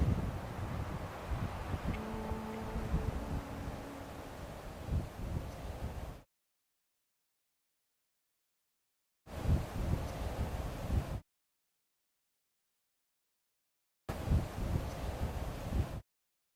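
Low, rumbling wind buffets the microphone in steady gusts, broken by stretches of complete silence between bursts.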